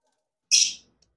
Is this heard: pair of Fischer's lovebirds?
yes